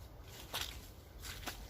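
Muddy feet tread through soft mud on an autumn woodland walk, two or three squelching footsteps spaced about a second apart, close but quiet against a low outdoor hush.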